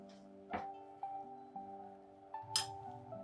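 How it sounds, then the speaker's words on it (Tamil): A ladle stirring a cup of dosa batter in a bowl gives a few light clinks against the side, spaced about half a second apart, over a steady low kitchen hum. "ஒரு கரண்டி வச்சு மிக்ஸ் பண்ணிக்கலாம்"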